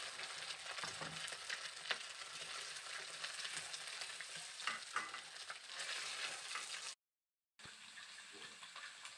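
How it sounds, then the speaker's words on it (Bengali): Pieces of rohu fish head fry in hot oil with a dense, steady crackling sizzle, close and continuous, broken by a brief cutout near the end before the frying resumes. "রুই মাছের মাথাটাকে টুকরো করে আমি ভেজে নিচ্ছি"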